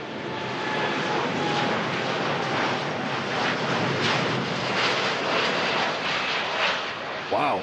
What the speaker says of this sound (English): It's like one of the longest takeoffs I've ever seen from a Dreamliner.